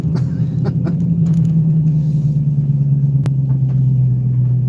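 A car engine drones steadily during a track hot lap, a low sustained rumble held at a near-constant pitch from inside the cabin, with a few faint clicks and one sharp tick, and no talking.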